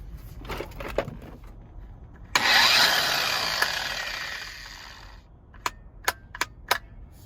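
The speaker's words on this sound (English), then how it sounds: "As I said previously, this is a 12 amp grinder. This is an 8 amp inverter. We're going to plug it in and see what happens." A 12 amp angle grinder plugged into an 8 amp power inverter in an International truck with a Cummins engine briefly whirs up with a harsh roar, then cuts out, followed by a few sharp clicks.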